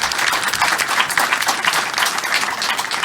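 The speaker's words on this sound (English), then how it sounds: "Let's all give them a round of applause." Audience applause for the panelists at the close of an expert panel discussion: dense, continuous clapping from a room full of people, steady and fairly loud throughout, with no talking.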